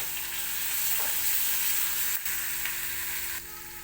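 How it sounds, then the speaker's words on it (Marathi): Ginger-garlic paste masala fries in a pan for chicken rassa, a steady bright sizzle with faint stirring scrapes, close and continuous, easing slightly near the end. "आलं लसणाची पेस्ट टप्प्याटप्प्याने टाकत गेले की खूप छान असा मसाला भाजत राहतो."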